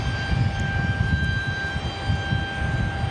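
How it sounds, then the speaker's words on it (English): Boeing 777 jet at Raleigh-Durham International Airport starting up before taxiing, a steady broad engine roar with a sustained whine, continuous and fairly loud throughout. "we might hear the 777 here in just a moment, starting up and getting ready to taxi"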